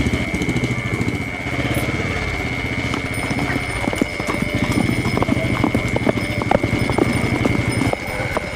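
A horse's hooves clip-clop in a steady, close rhythm, joined by a constant mechanical hum and a high whine, in an old Tamil television serial.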